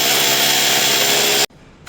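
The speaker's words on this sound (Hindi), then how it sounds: "तो देख सकते हैं ड्रिल कर रहे हैं" A power drill bores a hole into a tiled wall during a home interior setup, a loud, steady high-pitched whine that stops abruptly, followed by brief quiet room noise.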